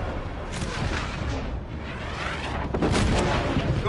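Artillery and flak fire in a military combat video game, with dull booms and bursts rolling continuously under game radio chatter, building to a heavier volley near the end.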